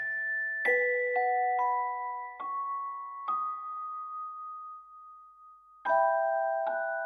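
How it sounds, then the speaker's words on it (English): A shop's entry bell rings out several times in a descending sequence of clear tones, each note ringing and fading before the next, then a final pair. "The entry bell tinkles, a bright, happy ring echoing through the humble shop I call home."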